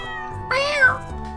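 Cat meow in the Stardew Valley farming game: a single clear, tonal meow in the middle over a quiet game background.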